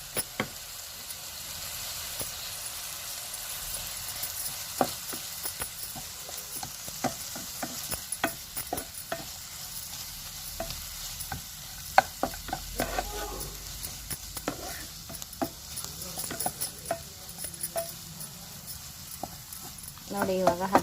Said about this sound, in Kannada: ನೋಡಿ, ಇವಾಗ ಹದವಾಗಿದೆ ಒಗ್ಗರಣೆ